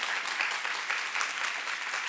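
A congregation at a Korean church youth service claps together after a pastor's sermon, a dense, even burst of applause that holds steady at full strength from start to finish.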